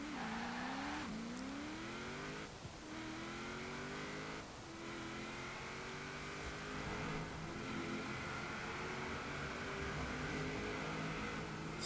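A 2010 Vauxhall Insignia VXR in Forza Horizon 4 accelerating hard at high speed, its engine note climbing steadily through several gear changes, loud and close with a constant rushing roar, no talking.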